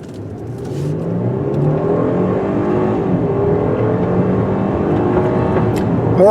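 A heavy 2017 Genesis G90 all-wheel-drive sedan accelerates hard, its steady, loud engine note climbing in pitch through the gears with road and wind roar, no talking.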